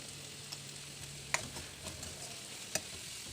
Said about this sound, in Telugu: ఆయిల్ వేడెక్కాక ఆనియన్స్ వేసి వేయించుకోవాలి